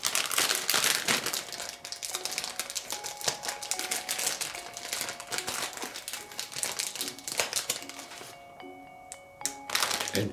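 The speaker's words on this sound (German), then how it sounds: "Endlich habe ich auch die Tüte aufgekommen mit den Kräutern." A plastic bag of herbs is opened in a kitchen while herb quark is being made, giving close, steady crinkling and rustling with sharp crackles throughout, fairly quiet.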